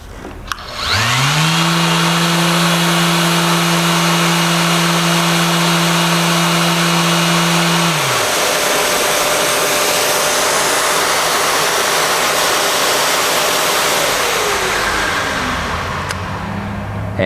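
An electric sander spins up and runs at full speed against epoxy, a loud steady high whine that drops after several seconds into grinding, abrasive sanding noise that continues to the end, with no talking.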